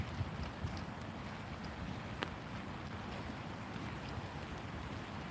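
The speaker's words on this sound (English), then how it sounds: "The rain is pouring too much than it should be." Heavy rain pours down steadily outdoors, a dense continuous hiss of drops with a few sharper splashes, close and even throughout with no voices.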